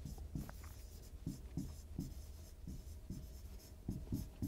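Soft, quick pen strokes tap and scratch across a digital board in short bursts, close but faint, with a steady electronic hum underneath.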